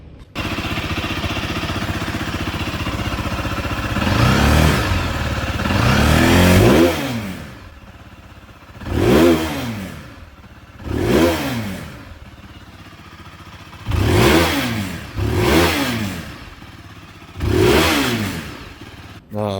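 Long-stroke motorcycle engine revved repeatedly to full throttle, climbing quickly toward redline in sharp rising bursts with pauses between them, loud and close.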